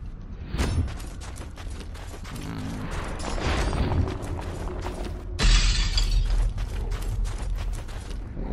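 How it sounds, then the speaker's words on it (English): Glass shatters in the video game Mortal Shell, a rattling, crackling cascade of fragments with mechanical creaks, swelling into a louder crash about five and a half seconds in and tinkling on afterward. "Sound like some kind of weird ass glass shattering."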